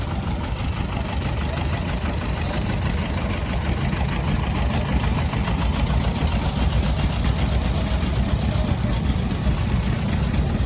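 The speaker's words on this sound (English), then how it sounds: "The Alice Chalmers G by Charlie Giuliani. 1949" A 1949 Allis-Chalmers G tractor idles at a classic tractor show, its engine giving a steady, close, even chug that runs unbroken throughout.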